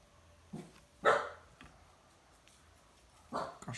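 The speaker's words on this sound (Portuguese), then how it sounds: "Cachorro." A dog barks on a rural smallholding, a few separate barks at irregular intervals with one louder bark, fairly close, against a quiet background.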